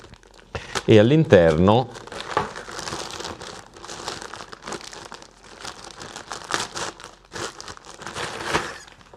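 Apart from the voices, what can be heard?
opening packaging of mosquito net replacement kit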